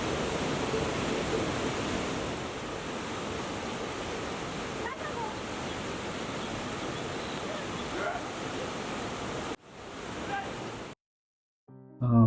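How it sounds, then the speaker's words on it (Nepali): A clear mountain stream fed by Phoksundo Lake in Nepal rushes steadily along the trail during the rainy season, a constant full roar close by that drops away abruptly near the end. "फोक्सुन्डो तालबाट आएको पानीको खोला हामी हिँड्छौँ तिरैतिर।"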